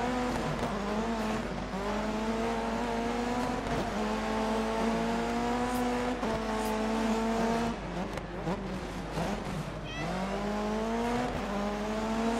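Tanafau's Ford Fiesta rally car races in the Dirt 3 video game, its engine loud and near, climbing through repeated high-revving gear pulls with brief dips between shifts, with no voices over it.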